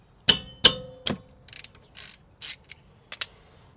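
A ratchet clicks close up as it backs out the brake caliper bolts on a 2018 Honda CR-V, with several sharp clicks followed by lighter, quicker ratcheting bursts in a quiet space.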